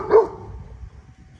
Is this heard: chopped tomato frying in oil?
no